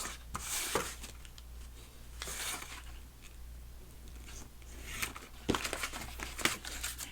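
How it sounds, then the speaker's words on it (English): A finger blade trims excess paper from a gift bag paper purse, heard as close, dry scraping and rustling cuts that come in several bursts over a low steady hum, with no talking. "I'll take my finger blade and just trim away some of the excess"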